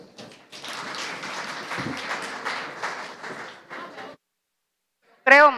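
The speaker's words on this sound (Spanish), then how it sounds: "Démosles por favor un fuerte aplauso." Applause from an audience at a real estate innovation and technology panel, a steady four-second burst of clapping that stops abruptly, followed by silence and a brief crackle.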